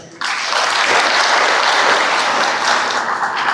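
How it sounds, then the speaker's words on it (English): Loud, sustained audience applause for the MD at a graduation ceremony, bursting in abruptly after a brief quiet moment and holding as a dense, even wash of clapping to the end. "Let's clap for our MD."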